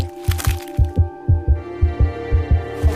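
A heartbeat in the video game What Remains of Edith Finch thumps in a steady, regular rhythm of deep paired beats over a sustained humming tone, loud and close with no talking.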